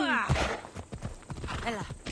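A fast horse galloping in the video game Assassin's Creed Odyssey, its hooves clip-clopping rhythmically beneath a person's continuous talking.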